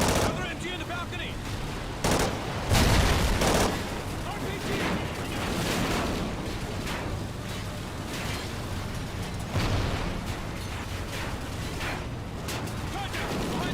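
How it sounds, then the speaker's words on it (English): Heavy gunfire in the video game Call of Duty: Ghosts, with repeated loud shots, machine-gun bursts and booming impacts over a noisy battle backdrop, under occasional speech. "I'm taking fire over here."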